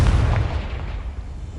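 A Confringo blasting spell explodes in Hogwarts Legacy, a loud deep boom with a low rumbling tail that fades over about a second and a half, no talking over it.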